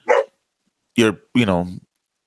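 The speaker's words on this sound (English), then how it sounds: "Apologize for my dog barking in the background." Three sharp dog barks close to the microphone, a short yip followed by two fuller, louder barks, during a podcast recording in a quiet room.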